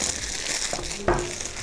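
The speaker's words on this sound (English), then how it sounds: "Just taking off that wrapper" Plastic wrapper crinkling as it is peeled off a Realme 5i phone, a short close rustle with a sharper crackle near the end.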